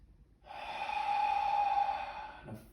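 A deep yoga inhale drawn slowly and steadily through the nose for about two seconds, a close, even breathy rush that ends with a faint catch, heard alone.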